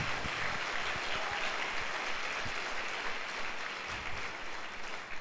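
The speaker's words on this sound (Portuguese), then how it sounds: "dê um aplauso ao Senhor Jesus" A church congregation at a Sunday service claps together in a sustained, dense wash of applause that holds steady and fills the room throughout.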